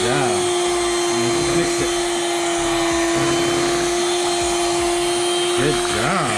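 An electric mixer whirs with a steady, loud, high-pitched drone as a young child mixes crêpe batter made from Krusteaz pancake mix, with adult voices heard over the motor.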